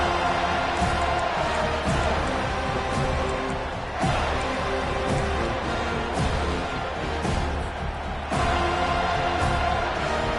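A packed football stadium crowd roars continuously during a game, a dense, loud wall of voices that swells slightly in places, with a commentator likely speaking over it.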